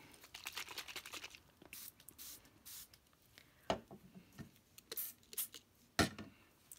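Several short bursts of a spray bottle misting seam binding for staining, spaced irregularly, with soft rustling and handling noises in between.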